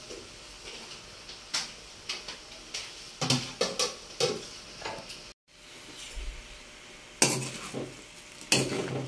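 Ginisang monggo with shrimp and tofu stirred in a pan, scattered scraping clatters of a utensil against the pan in uneven bursts, close by, with a brief silent gap midway.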